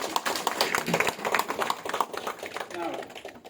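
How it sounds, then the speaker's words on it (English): An audience at a lecture on flipped instruction gives a speaker a burst of dense clapping applause, loud and continuous for a few seconds before fading slightly. "So let's give a big applause to Muniret"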